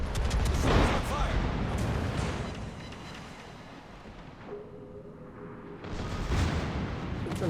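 A naval gun salvo fired at a destroyer in a warship video game; heavy, rumbling booms roll out loudly at the start, fade into a low murmur, then swell again, with game voice chatter mixed in.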